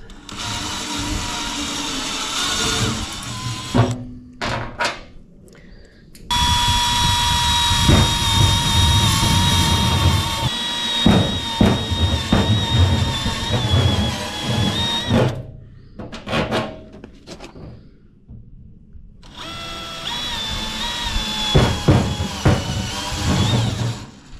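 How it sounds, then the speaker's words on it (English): Handheld electric drill enlarging a hole from 3/8 to 7/16 inch while fitting an under-bed toolbox to a gooseneck trailer, with loud sustained whining runs broken by brief pauses and clunks, close up. "we drilled it out to the 3/8. Going up to the 7/16."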